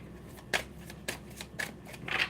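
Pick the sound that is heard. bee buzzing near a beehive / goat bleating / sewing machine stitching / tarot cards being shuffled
tarot cards being shuffled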